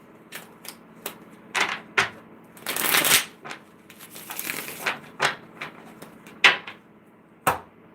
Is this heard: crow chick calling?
no